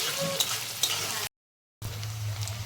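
Dried loitta fish frying in a pan with ginger garlic paste, a steady, loud hiss and crackle with a brief drop to silence partway before the sizzle resumes.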